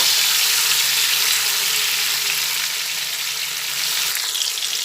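Potato and pointed gourd pieces fry together in hot oil for an Odia-style curry, producing a continuous, loud, close sizzle with no breaks.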